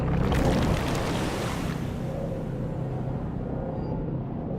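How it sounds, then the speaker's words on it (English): Floodwater from a burst dam rushing over a camp in a video game: a loud, broad, continuous rushing wash that surges at the start, then settles into a steady roar. "the Alliance's camp disappeared under waves of water with a very satisfactory gurgling sound"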